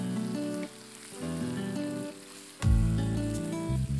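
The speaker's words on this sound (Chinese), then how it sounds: "随即下猪肝快速翻炒" Pork liver stir-fried in a hot wok with ginger, garlic and fresh and dried chilies, crackling in a loud, steady sizzle that jumps sharply louder partway through, up close with no talking.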